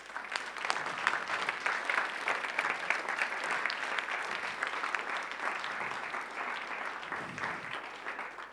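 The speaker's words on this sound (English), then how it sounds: "We'll give them a round of applause." A workshop audience gives the speakers a sustained round of applause, dense even clapping from many people that holds steady throughout at moderate volume.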